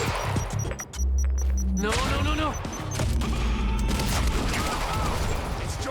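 In the video game Quantum Break, a grenade blast booms out, followed by a dense run of gunfire and crashing impacts, loud and close, with a voice shouting briefly over the start.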